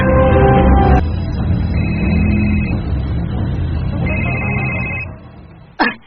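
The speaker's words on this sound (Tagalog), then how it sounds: "kuyawa naman noon kumabagting akong cellphone ay" Cellphone ringing with a loud electronic ringtone, a steady sustained tone with repeating high beeps, fading out before a short sharp sound at the end.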